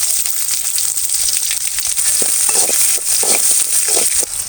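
Onions and garlic frying in sesame oil with mustard seeds and cumin, a steady close sizzle with crackles and soft stirring scrapes throughout.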